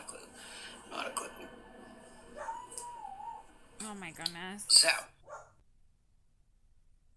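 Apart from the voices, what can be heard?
dog barking at someone outside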